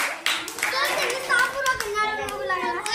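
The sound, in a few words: children clapping hands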